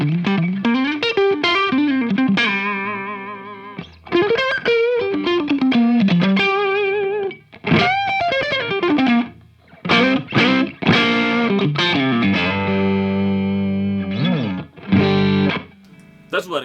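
An electric guitar, a PRS SE DGT, plays through an engaged Boss SD-1 overdrive pedal. Loud, gritty sustained notes and sliding phrases come in bursts separated by brief pauses.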